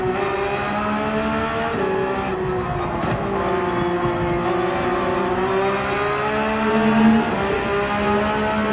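Porsche 911 GT3 race car engine screaming around Mount Panorama in Gran Turismo 7, a loud, continuous high-revving drone whose pitch rises and falls with gear changes, with no talking.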